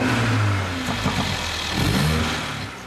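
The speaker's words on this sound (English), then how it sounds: "This is the sound you get when you really step on it." A car engine revs hard under full-throttle acceleration, a loud, rising mid-pitched roar that dips and surges again, close and steady, with no talking.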